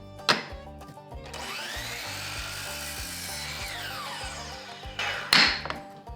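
A power saw cuts scrap wood pieces in a woodworking shop: a whining blade spins up, bites through the wood with a rising, straining tone for a few seconds, then winds down, with sharp knocks of wood at the start and end.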